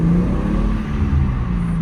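BMW M2 engine revving close by, a loud, throaty, sustained growl that holds steady with no voices over it.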